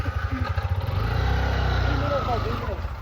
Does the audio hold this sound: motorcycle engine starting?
yes